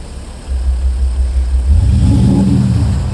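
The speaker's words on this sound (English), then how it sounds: "switch it up to make it a bit of a deeper sounding car, you can switch it up to sports mode" A Maserati Levante's engine idles low, then revs up in sports mode into a deep, throaty roar that holds steady, close and loud.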